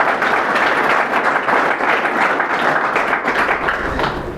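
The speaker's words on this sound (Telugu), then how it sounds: "ఒక్కసారి గ్రేట్ రౌండ్ ఆఫ్ అప్లాజ్ అండి" A seminar audience gives a round of applause, a dense, steady wash of many hands clapping close by that carries on without a break for the whole stretch before fading slightly at the end.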